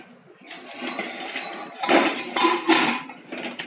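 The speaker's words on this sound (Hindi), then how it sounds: "और इसे मिक्स कर लेंगे और ढक्कन लगा देंगे" A metal lid goes onto a pressure cooker of bottle gourd (lauki) sabzi after salt is stirred in, making several close, sharp clanks and rattles in quick succession.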